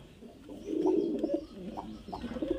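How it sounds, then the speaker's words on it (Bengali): Giribaz highflyer pigeons coo softly in a few low, throaty phrases, close by and fairly quiet, with no voices over them. "খুব সুন্দর কোয়ালিটির পায়রা, দেখতে পাচ্ছেন ফ্রেন্ড"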